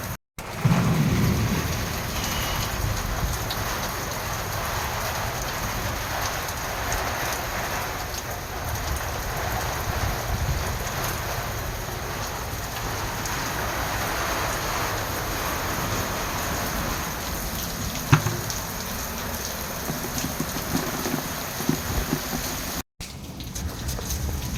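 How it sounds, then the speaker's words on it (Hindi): Steady rain with wind pours down in a continuous dense hiss outdoors, with an occasional low rumble, heard without any talk. "तो अभी भी बारिश कंटिन्यू चल रही है हवा के साथ में"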